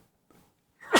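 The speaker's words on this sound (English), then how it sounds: "Excuse me, I needed to sneeze there." A single sudden sneeze bursts out near the microphone at the very end, preceded by a faint intake of breath in an otherwise quiet room.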